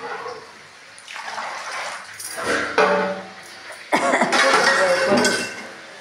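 Water is poured into a pot outdoors, splashing and gushing in uneven bursts that grow louder toward the end, with no clear talk over it.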